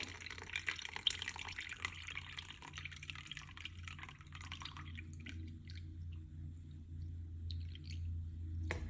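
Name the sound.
coffee being poured into brownie batter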